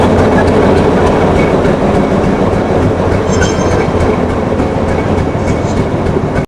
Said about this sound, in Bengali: আমাদের ট্রেন ফাইনালি দেখা যাচ্ছে, আর শিয়ালদা স্টেশনে এখন প্রচুর ভিড়